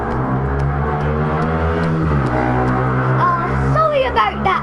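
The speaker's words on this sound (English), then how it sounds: "Sorry about that car noise." Car passing outside a house, its engine rumble swelling and fading at moderate distance beneath voices talking indoors.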